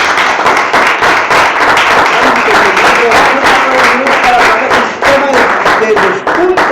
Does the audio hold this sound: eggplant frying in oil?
no